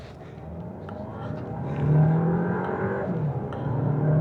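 A Volkswagen Tayron R Line with paddle shifters accelerating hard, its engine note rising and swelling steadily from inside the cabin, loud and continuous with a faint whir underneath.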